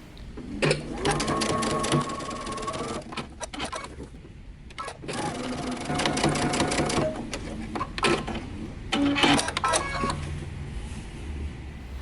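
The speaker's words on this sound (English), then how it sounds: "You're just going to sew across, making sure to tack them in place" A sewing machine tacks shoulder straps in place on a top made from a Simplicity pattern, whirring in several short runs with pauses between, close and moderately loud, with faint talk in the background.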